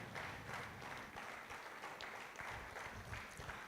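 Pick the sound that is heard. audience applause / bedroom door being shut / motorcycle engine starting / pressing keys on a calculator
audience applause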